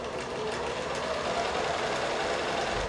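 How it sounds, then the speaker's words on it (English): A sewing machine runs continuously, stitching down one side of fabric with a steady, close mechanical whir and rapid needle rhythm. "I'm going to sew down one side, and then I'm going to pull this, and then I'm going to sew down the other side"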